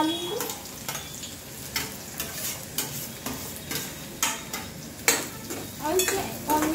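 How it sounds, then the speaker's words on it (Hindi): Cumin seeds sizzling in hot oil in a pan, a steady frying crackle with repeated stirring scrapes and clinks of a spoon against the pot, close and continuous. "यहाँ पर मैं थोड़ा सा जीरा डाल दी हूँ तेल में।"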